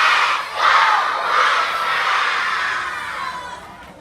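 Crowd of White Sox fans cheering and shouting together in a baseball ballpark, a loud swelling cheer in a few pulses that fades toward the end.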